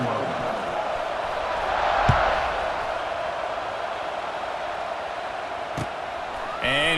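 A big college football stadium crowd roars steadily in the distance ahead of a kickoff in a Notre Dame vs Michigan game, while an announcer talks over the sustained din.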